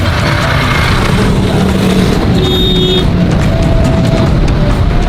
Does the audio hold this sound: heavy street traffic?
yes